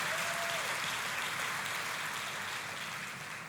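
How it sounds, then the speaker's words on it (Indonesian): A church congregation claps for God during a service, a sustained dense round of applause, loud and even before easing slightly toward the end. "Ayo tepuk tangannya yang paling meriah buat Tuhan yang mengerjakan itu."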